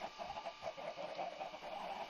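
Chickens in the Minecraft video game cluck softly and repeatedly in a quiet, steady series of short calls over a faint background hum.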